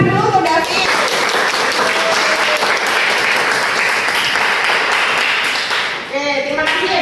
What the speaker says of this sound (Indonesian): tepuk tangan dulu untuk Davi.